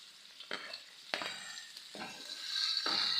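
Ginger garlic paste hits browned onions in a pan for an egg masala curry. A quiet sizzle runs underneath, broken by several sharp spoon scrapes, and a hissing surge rises toward the end.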